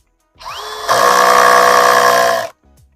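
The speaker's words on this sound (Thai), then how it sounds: "รอบนี้ผมจะใช้ของจีนตัวของจีนขันเข้านะครับ" Chinese brushless cordless drill driving a screw: a short motor whine that rises in pitch, then a loud steady buzzing drive of about one and a half seconds before it cuts off abruptly, alone and close.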